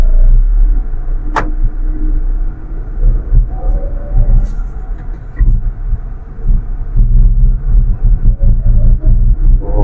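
A 2025 Renault Kwid Climber starts and drives off, its low engine rumble heard close from inside the cabin, steady with gentle surges and faint knocks as it moves.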